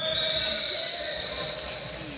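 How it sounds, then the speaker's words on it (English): Referee's whistle at an international men's volleyball match, a long steady shrill blast held for more than two seconds over the low murmur of the arena crowd. "And that's lifting whistle against Sekli"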